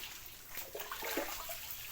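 Water draining off soaked black glutinous rice, a soft splashing trickle with a few small gurgles, close and fairly quiet, no talking.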